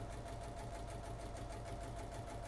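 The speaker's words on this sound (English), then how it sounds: "I am going to sew the other short side." A sewing machine runs at an unhurried pace, stitching a quarter-inch seam along the short side of a fabric face mask, giving a steady, quiet, rhythmic whir with no voices.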